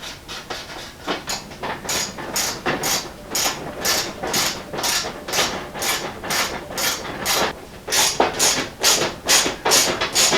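A ratchet clicks in quick, regular bursts as nuts are tightened on the hood of a Model A hot rod shop truck. The close, sharp metallic strokes repeat steadily with short pauses between runs.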